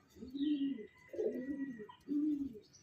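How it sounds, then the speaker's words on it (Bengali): Rajshahi Giribaz pigeons coo in three soft, rounded phrases with short gaps between them, close by but quiet, with faint chirps in the background. "এই যে দেখুন দুটো কবুতর"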